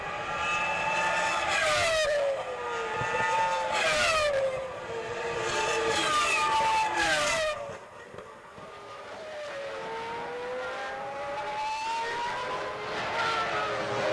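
Formula 1 cars, a McLaren and a Ferrari running second and third at the 2001 Hungarian Grand Prix, scream past in repeated loud, high-pitched engine passes with falling Doppler pitch sweeps, then fade to a more distant whine.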